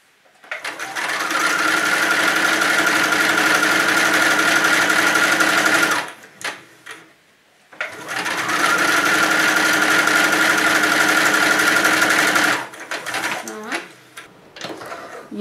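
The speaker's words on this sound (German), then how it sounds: "Machen wir eine Naht fusselbreit, auch mit dem elastischen Geradestich hier entlang" Electric sewing machine running a stretch straight stitch along a seam in wool fabric, two long loud continuous whirring runs of about five seconds each separated by a short pause with handling noise, close up.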